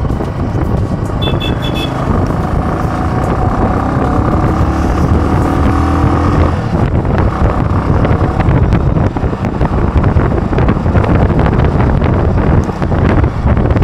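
Steady engine drone of a motorcycle on the move, with heavy wind buffeting the microphone throughout and a brief high toot early on.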